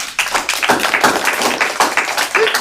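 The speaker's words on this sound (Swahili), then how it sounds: "Tumpigie makofi." Lively clapping from a group applauding a young girl at a live-streamed Sabbath gathering, quick uneven claps sustained throughout, close and loud with no talk over it.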